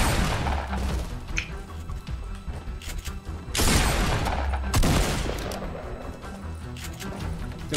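Gunfire in the Fortnite video game rattles out in dense, repeated bursts, with sharp loud volleys hitting hard mid-clip over a busy game soundscape.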